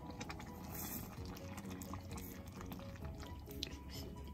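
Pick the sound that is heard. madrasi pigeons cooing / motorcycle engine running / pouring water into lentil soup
pouring water into lentil soup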